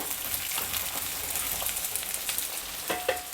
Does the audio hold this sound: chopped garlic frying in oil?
yes